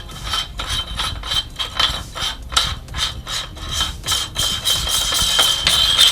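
A small ring is unscrewed from the flash hider of an airsoft SPR MK12 replica, a close series of rhythmic metallic scraping and ratcheting turns, each brief and crisp, repeated steadily with no talk.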